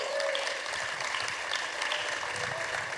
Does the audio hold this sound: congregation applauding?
yes